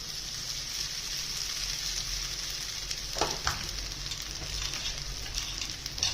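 Potato pieces and sabudana sizzling in a pan for khichdi: a steady, close frying hiss throughout, with a few brief clinks or stirring knocks partway through.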